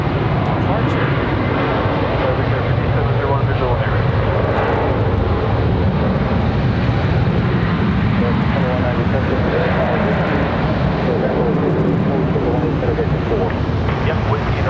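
An airliner departs Charlotte Douglas International Airport, its engines producing a continuous, fairly loud jet roar that persists throughout while people talk over it.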